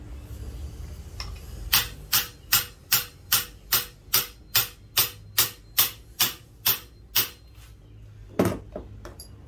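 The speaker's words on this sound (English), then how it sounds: "I'm going to take my hammer, I'm going to smack the top of this just to make sure that those clamps or those retainers are fully set." A hammer strikes the top of a valve spring compressor on a Chevrolet Aveo cylinder head during valve installation, giving about fourteen sharp metallic taps in a steady rhythm, close and loud, followed by a couple of separate knocks near the end.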